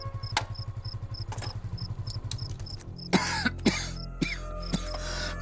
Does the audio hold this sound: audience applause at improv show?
no